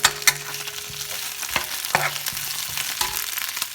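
Chinese celery being stir-fried in a pan with sweet peppers, giving a steady sizzle broken by sharp clicks and scrapes of the spatula against the pan, close by, with no talking.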